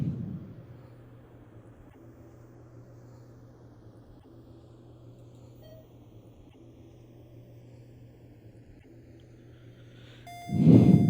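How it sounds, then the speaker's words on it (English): A steady low hum runs throughout an elevator car, then a loud electronic elevator beep with a bright tone sounds near the end. "you can hear the beep"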